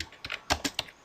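A handful of quick keystrokes on a computer keyboard while HTML code is typed, sounding as soft, close clicks in an uneven burst.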